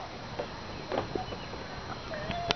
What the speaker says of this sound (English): Come on, come back. Horses.